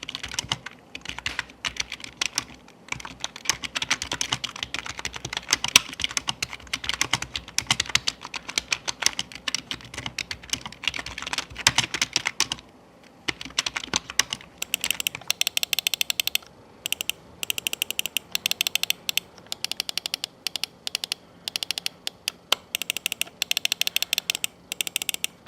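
Buttons on an Acer AIO ACX24 keyboard and mouse click in rapid, close, irregular bursts of typing-like taps, followed by sharper, more spaced individual clicks, with no talking.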